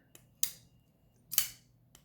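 Faint clicks followed by two sharp metallic snaps of a folding knife blade flicking open and locking, with a soft tick at the end.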